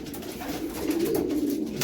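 Racing pigeons coo steadily at close range, a soft continuous murmur of several birds in a loft in Madrid, Spain, with no talking.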